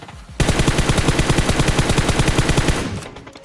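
Rapid automatic gunfire from a battle royale video game, a sustained burst of evenly spaced loud shots lasting about two and a half seconds after a brief quiet start, then fading out.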